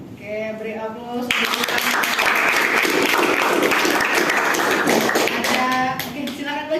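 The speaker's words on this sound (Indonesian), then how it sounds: "Oke, beri aplaus." An audience applauding after a presentation, dense hand clapping that starts suddenly and holds steady for several seconds before fading, with people talking before and after it.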